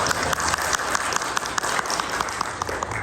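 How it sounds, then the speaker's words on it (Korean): A church congregation clapping steadily during a Sunday service, a dense, even wash of applause throughout. "박수 환영해 주시면"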